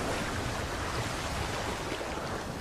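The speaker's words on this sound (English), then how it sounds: "The crash of water as the buffalo retreat takes on a new significance to her." Water crashing and splashing as a herd of buffalo retreats through it, a broad, steady wash of noise that fills the clip evenly with no voices.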